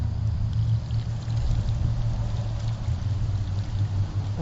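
Water poured by hand onto the roots of an herb plant in a small herb garden planting, a steady close splashing pour with low gurgling that runs continuously without pause.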